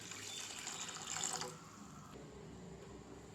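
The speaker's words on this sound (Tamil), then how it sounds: "1/2 கப் அளவுக்கு தண்ணி." Half a cup of water pours into a pot of filtered jaggery during cooking, a soft splashing trickle heard close up with no talk over it.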